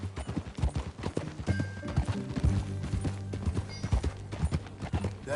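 Steady clip-clop of horse hooves during a ride in the video game Red Dead Redemption 2, continuous and close, with a low rumbling bed beneath and a brief murmur of voice.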